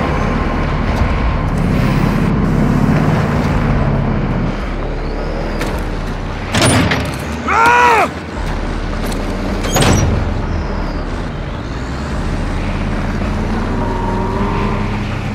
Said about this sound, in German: Ich bin im Truck hinter dir und dabei zu überholen.